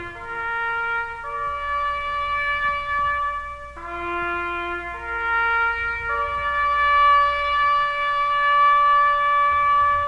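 Bugle call Taps played as a slow, sustained melody, a series of long held brass notes stepping between pitches, clear and alone over a faint low background hum.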